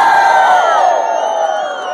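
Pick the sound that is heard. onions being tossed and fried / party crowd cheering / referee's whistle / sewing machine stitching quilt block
party crowd cheering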